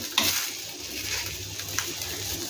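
An omelette fries in oil in a pan, giving a steady soft sizzle with a couple of faint clicks from the pan, close by and alone with no talking.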